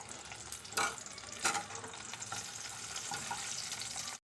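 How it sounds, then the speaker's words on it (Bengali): Eggplant pieces with turmeric going into hot oil in a wok, with a couple of louder sputtering bursts early on that settle into a continuous close crackling fry. "একই তেলের মধ্যে বেগুনগুলোকেও ভেজে নেব"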